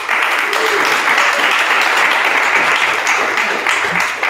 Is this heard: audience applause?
yes